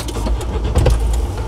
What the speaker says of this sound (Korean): 시동 다시 걸어주시고요